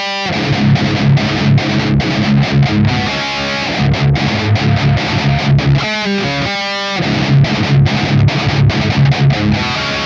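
Heavy distorted electric guitar plays the combined first part of a song, with fast, loud, driving picked rhythms and a brief pause midway, with no talking.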